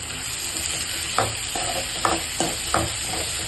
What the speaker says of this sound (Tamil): சேர்த்துட்டு இதை நல்லா வதக்கிக்கலாம்